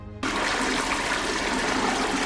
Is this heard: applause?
no